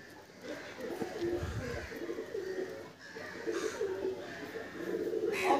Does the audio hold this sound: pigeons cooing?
yes